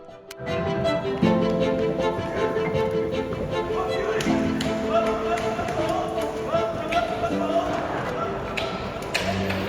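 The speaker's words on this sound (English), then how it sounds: "There's a lot of slapping going on." Sumo wrestlers slap each other during a bout, with repeated sharp smacks and thuds set against a loud, continuous crowd roar, and a voice talking over the action.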